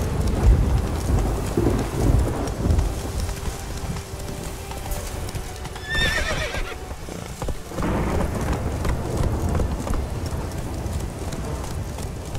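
A thunderstorm with rain in the video game The Witcher 3, with steady rain noise, low thunder rumbles and horse hooves clopping, with a brief sharper cry in the middle.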